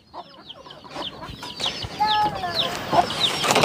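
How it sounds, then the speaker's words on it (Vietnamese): Chickens kept beneath a bamboo stilt house in a Raglai mountain village in Ninh Thuận, Vietnam, cluck and chirp repeatedly, with several birds calling close by over soft ambient noise. "Ở dưới này có chăn nuôi gà nữa nè."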